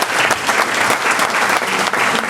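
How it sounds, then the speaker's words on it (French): An audience at a French municipal New Year's address applauds, dense and loud continuous clapping filling the whole short stretch without a pause. "Oui, vous pouvez applaudir parce que c'est ce qu'on veut."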